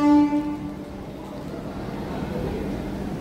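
Ride aboard a commuter train bound for Sealdah, a steady low rumble of the moving carriage with a brief horn-like tone at the start, fairly loud and continuous.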